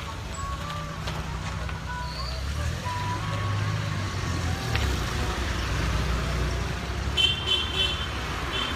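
Busy morning city street traffic in Ahmedabad, India, with cars and trucks rumbling steadily, a few short horn toots and a high reversing-style beep near the end, all forming a continuous dense roar.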